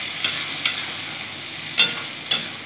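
Fish curry masala of onion, garlic, tomato paste and black cumin, with water added, cooking in a pan under a steady low sizzle, with four distinct scrapes of a spatula at irregular intervals, close and alone.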